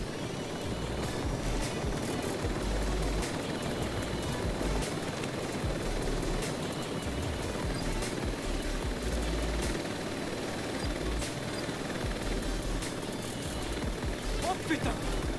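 A drone flies in Watch Dogs 2, a steady rotor-like buzzing drone continuous throughout, with game ambience and sporadic clicks beneath.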